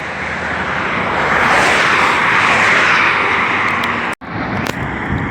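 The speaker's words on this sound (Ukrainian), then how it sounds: "Чувачок на мотоцикле їде" A motorcycle engine drones steadily nearby, a broad rushing roar that holds level, briefly cuts out, then resumes; no voices.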